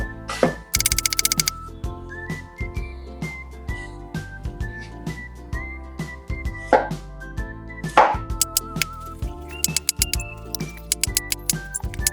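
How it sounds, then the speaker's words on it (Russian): Rapid knife chops thinly slicing leek on a cutting board, crisp and close, running in quick irregular bursts with light clinks over soft background music. "просто нарежем его тонко"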